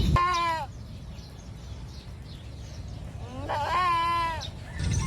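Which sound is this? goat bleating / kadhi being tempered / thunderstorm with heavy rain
goat bleating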